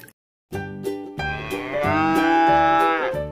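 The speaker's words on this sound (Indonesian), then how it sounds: "Sapi, teman-teman." A cow moos one long, loud, near call that rises and holds before fading, with a few shorter low grunts before it.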